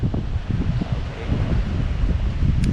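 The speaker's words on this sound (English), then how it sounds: "It's really windy, but you can see the runway from here." Strong wind buffets the microphone outside an airport near the runway, a continuous low roaring rumble with no speech, steady and close throughout.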